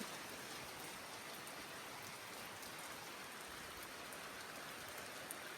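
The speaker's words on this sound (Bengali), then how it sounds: "প্রচুর বৃষ্টি প্রচুর রাতের বেলা" Heavy rain falls at night in a village, a dense, even hiss of drops pattering on surfaces that holds steady from start to finish with no voices.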